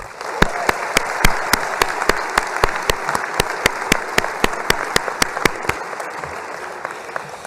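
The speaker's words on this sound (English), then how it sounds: "how about a round of applause for our medical students?" Audience applause for medical students at a white coat ceremony, a sparse, evenly paced clapping from a crowd with a few sharp close claps standing out, continuing steadily throughout.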